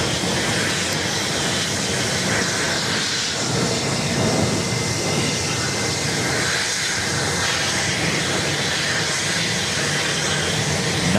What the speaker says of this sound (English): we've got one about to start its taxi right in front of our cameras here